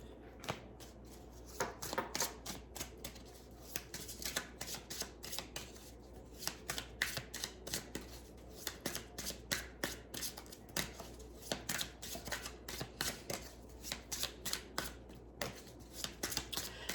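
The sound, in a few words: shuffling a deck of tarot cards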